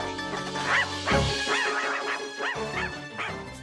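Dogs bark and yelp excitedly in a bloodhound-style chase scene from the film Killer Klowns from Outer Space. A quick run of close, loud barks with whimpering yips rises and falls over a few seconds.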